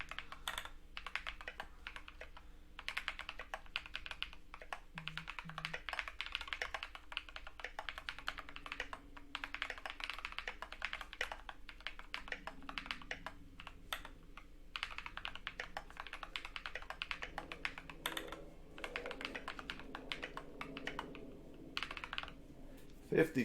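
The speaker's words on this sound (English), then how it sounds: "So I'm going to give a little test typing here." Mechanical keyboard typing on a KBD67 Lite R3, a steady stream of close, crisp key clacks over about twenty seconds with irregular bursts and short pauses, no talking.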